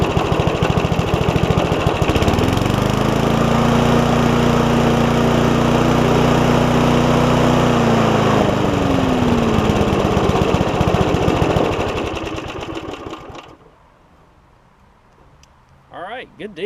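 An old Craftsman push mower with a top-pull Briggs & Stratton engine runs loud and close, dropping into a steady lower idle with a humming tone, then cuts off into near silence; someone talks over it.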